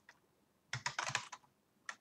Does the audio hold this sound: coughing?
no